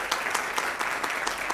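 An audience claps steadily at a school committee meeting at Brockton High, a moderate, continuous patter of many hands with no voices over it.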